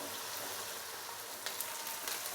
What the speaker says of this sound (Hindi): प्याज को हम लाइट ब्राउन होने तक फ्राई कर लेंगे।